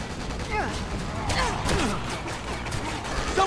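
Gunfire from enemies shooting from a rooftop and the street in Resident Evil 6, scattered shots and impacts over a busy, dense game soundscape, with a voice briefly audible.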